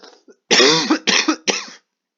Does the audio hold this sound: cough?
yes